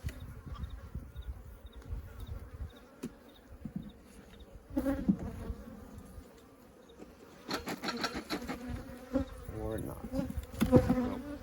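Honey bees at a late-season ranch hive, a starving colony, buzz steadily with a dense close drone that swells louder toward the end, with a few knocks of wooden hive parts and a brief spoken remark.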